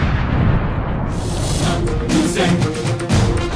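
A big firecracker explodes during Diwali: a loud, close explosive blast bursts out, followed by a rumbling, crackling roar that lingers with scattered noisy bursts.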